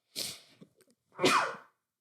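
A single short sneeze, quick and fairly close, with a brief intake before it and quiet afterward.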